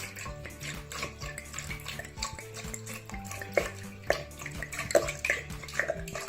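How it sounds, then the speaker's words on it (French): Three litres of water poured into the upper tank of an Eva 7L glass-tank filter fountain, a continuous close splashing and gurgling with small clinks and drips rising toward the end. "Nous allons remplir le bac supérieur avec 3 litres d'eau."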